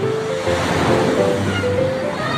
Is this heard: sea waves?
yes